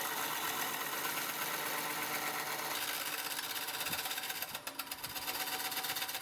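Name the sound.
wood lathe gouge rounding over edges of pine segmented ring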